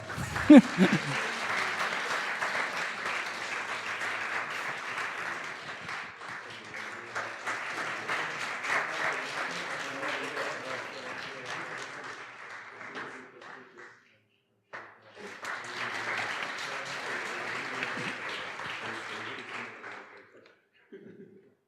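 Conference audience at a horticulture science symposium applauding student award winners, with two long stretches of steady moderate clapping from a sizeable room separated by a brief silence, then fading out.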